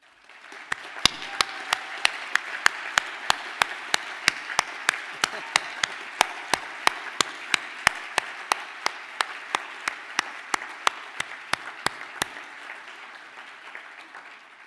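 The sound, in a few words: applause for graduating class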